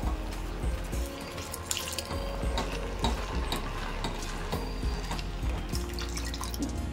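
Milk poured from a little height into caramelized sugar in a pan while making Bengali sweet yogurt gives a continuous close splashing and bubbling with soft clinks, steady for several seconds and with no talking.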